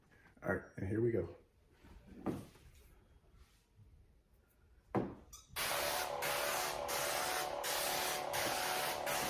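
Solution sprays onto the rear glass of a 2025 Honda Civic Type R during window tinting, first in a few short bursts amid quiet handling noises and voices, then as a long steady hiss.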